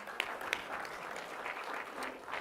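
An audience breaks into steady applause during a stock trading seminar, dense clapping sustained throughout at moderate level with a couple of sharper individual claps.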